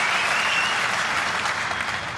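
Loud, dense applause and cheering from a snooker crowd in Antwerp greet a Ronnie O'Sullivan century break, a continuous wash of clapping with no speech over it.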